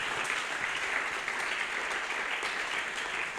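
A church congregation applauds loudly for the king, a dense steady wash of clapping from many hands sustained throughout.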